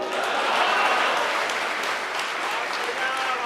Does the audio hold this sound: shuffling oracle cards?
no